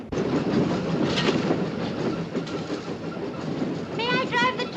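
A steam train rolls along the rails with a continuous rumbling, rattling clatter, heard in a 1959 film set on a railway journey; a voice briefly cuts in near the end.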